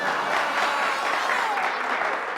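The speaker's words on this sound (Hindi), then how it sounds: "तालियां!" Applause fills a brief stretch, a steady dense patter of many hands clapping with faint crowd murmur beneath.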